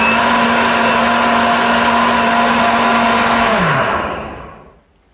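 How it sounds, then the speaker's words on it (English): A blender whirs loudly and steadily up close, mixing eggs, banana, half-and-half and protein powder, then winds down, its motor pitch dropping before it falls silent near the end. "Now I'm just gonna whack it in the blender."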